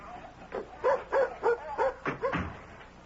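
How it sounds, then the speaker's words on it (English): A dog barks five or six times in a steady run of short woofs, close and fairly loud, as a radio-drama sound effect at a beach outing with a red frisbee. "Ben, may I take the dog down to the beach"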